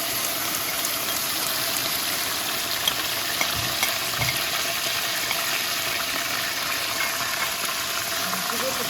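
Tomatoes with spices and herbs fry in a pot for Durban-style South African Indian breyani, giving a steady, even sizzle throughout.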